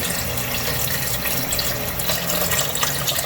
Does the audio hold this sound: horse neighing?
no